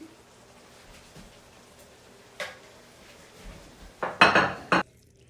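Hamburger taco soup is served out with a ladle and dishes: quiet scraping and stirring in a pot, then several sharp clinks of utensils against bowls near the end, close and fairly loud.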